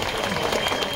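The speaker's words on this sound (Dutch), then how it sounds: "geef ze nog even een applaus" A short burst of steady clapping from a crowd at the opening of the renewed Avalon at Toverland, dense and even throughout.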